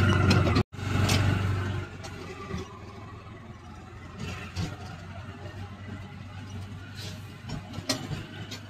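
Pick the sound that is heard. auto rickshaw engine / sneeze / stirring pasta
auto rickshaw engine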